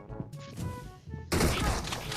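DBS double-barrel shotgun fire in the PUBG Mobile game: a few muffled thumps, then a loud sudden burst that holds as a dense roar to the end, with no talk over it.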